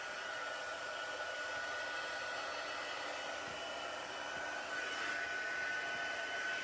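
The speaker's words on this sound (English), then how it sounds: "I'm going to dry it just for a second with my heat tool." A handheld heat tool blowing on a faux watercolor craft project, a steady close whirring roar with a faint constant whine that stays level from start to finish.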